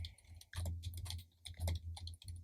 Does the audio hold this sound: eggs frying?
no